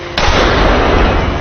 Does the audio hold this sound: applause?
no